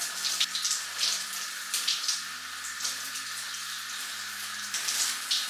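Shower water runs continuously in a bathroom, a steady hissing spray with soft splashes and uneven pulses, close and fairly quiet, with no one speaking.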